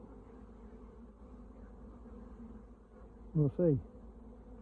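Honey bees fly back into a small nucleus box, their steady low buzzing filling the background before a louder, closer pair of buzzing swoops passes near the end; a person speaks briefly.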